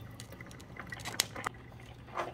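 An Amazon Basics 12-cup programmable coffee maker brewing, with soft gurgling, patter and bubbling drips in quick irregular bursts, close and quiet.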